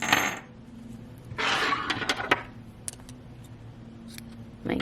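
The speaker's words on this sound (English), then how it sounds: "cut the yarn." Scissors snip through knitting yarn at the end of a cowl bind-off. A few quick, faint metallic clicks sound close by in a quiet room.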